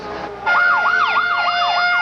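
An ambulance siren wails at night in a rapid, loud up-and-down warble that starts abruptly after a faint tone, close and alone.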